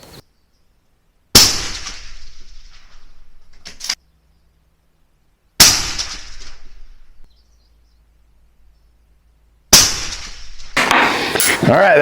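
Three sharp, loud Benelli Lupo rifle shots fired at a target at an outdoor range, evenly spaced about four seconds apart, each with a sharp crack followed by a decaying echo.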